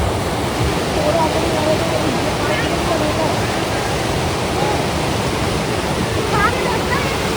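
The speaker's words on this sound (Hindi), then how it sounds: "पता नहीं, बट शायद व्यास नदी है ये।" The Beas river near Kullu and Manali rushes in a steady, dense roar of flowing water, close and continuous for the whole stretch, with faint voices at moments behind it.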